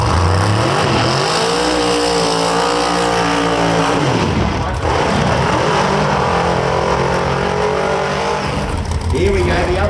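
Supercharged drag radial race car roaring down a drag strip, a loud sustained engine howl rising in pitch through the gears, dropping briefly and climbing again, with an announcer talking over it.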